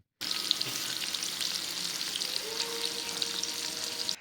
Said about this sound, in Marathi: पहिली सुंगटा तव्यात सोडल्या आणि त्याच्यानंतर जो काय आवाज येत होतो